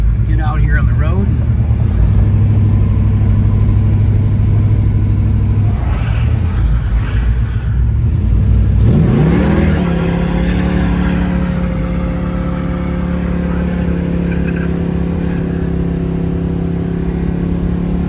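A 1970 Chevelle pulls out onto the road, its mid-pitched engine revving up steadily and holding a strong, close drone. Traffic noise sits behind it, and someone talks over the engine.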